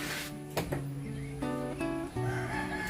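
Chickens cluck and crow close by in several short, squawky calls, one after another with little pause.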